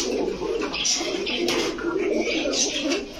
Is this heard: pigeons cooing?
yes